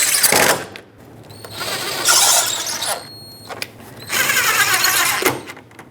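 Power drill snugging torque screws at the top of a radiator on a 2010-2017 Chevrolet Equinox, several high whirring bursts with pauses between, close and loud.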